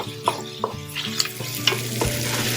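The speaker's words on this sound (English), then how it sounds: "I'm going to cook this until it's no longer pink. You do want to make sure that you mix it a couple of times." Turkey sausage fries in a pan with a low steady sizzle while a utensil stirs it, giving several short scraping knocks in an uneven rhythm.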